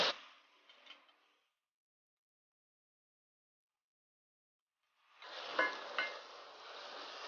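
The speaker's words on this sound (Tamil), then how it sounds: "இப்போ வெங்காயம் வதங்கிடுச்சு. இனி நம்ம வெட்டி வச்சிருக்க தக்காளியை உள்ள போட்டுடலாம்." Chopped tomatoes go into sautéed onions in a pan for maasi karuvadu thokku, giving a brief sizzle and stir before a long silence, then a renewed steady frying hiss with a couple of louder crackles.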